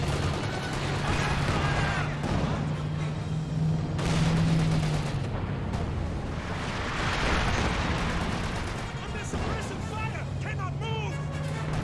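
Tank gunfire aimed at a Sherman tank in the Company of Heroes 2 video game, heard as a dense, continuous wash of battle noise with repeated blasts and shots, loud and steady throughout, over a low droning hum.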